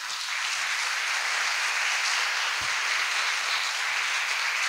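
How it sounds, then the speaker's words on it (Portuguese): Applause fills a church sanctuary as a congregation claps, a dense, steady wash of many hands that is loud and continuous throughout, with a faint low thump or two beneath it. "Vamos aplaudir Jesus?"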